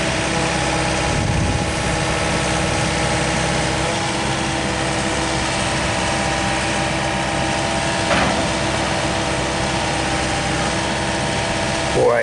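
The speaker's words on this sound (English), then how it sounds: "they've got a separate sleeve that they put their hydraulic unit, I guess you'd call that a drill" A hydraulic drill unit for boring pole barn post holes runs steadily at a constant droning pitch, a loud unbroken engine hum with mechanical vibration and no pauses throughout.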